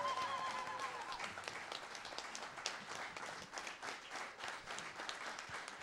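A conference audience on Ethiopian land grab applauds, filling the room with sustained, dense clapping from a large crowd that holds steady and fades slightly near the end, with a brief voice at the start.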